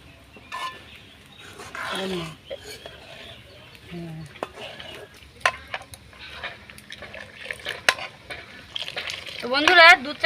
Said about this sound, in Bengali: যতটা পারবো এইভাবে ঘেঁটে ঠান্ডা করে নেব